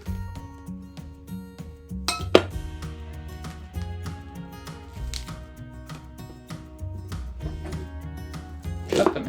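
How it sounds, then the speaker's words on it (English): A knife works through spring onions on a board, with a steady run of sharp chopping taps and a couple of brighter clinks, close and fairly loud. "Take a couple of those at a time. Slice off the top part there."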